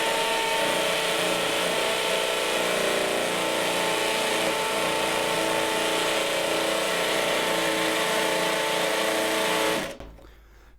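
Ingco cordless impact drill running on level 2 hammer setting, a loud continuous grinding whir sustained for about ten seconds before cutting off abruptly.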